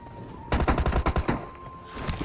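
A close burst of automatic gunfire in BGMI, rapid shots striking cover in a tight rhythm for about a second, then fading into the game's background hum.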